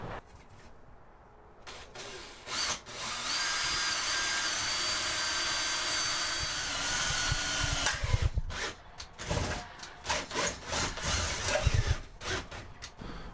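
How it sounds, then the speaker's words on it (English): A power drill bores holes into the side of a camper van. It starts with a whine, holds a loud continuous grind for several seconds, then breaks into short bursts as the bit pushes through. "drill 2 more holes coming into this side"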